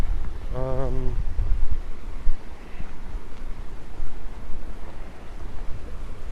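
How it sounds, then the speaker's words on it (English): Wind blows hard outdoors in a gusty, rumbling roar that buffets the microphone, loud and continuous, with a brief tonal voice-like sound early on. "It's a little breezy today."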